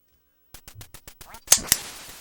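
Duck quacking in a classic duck-hunting video game, with a series of short, rhythmic electronic quacks followed by two sharper, louder bursts, no talking.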